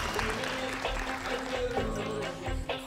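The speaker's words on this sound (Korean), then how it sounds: "박수로 한번." Studio audience breaks into steady applause, a dense, continuous wash of many hands clapping at fairly close range for a few seconds.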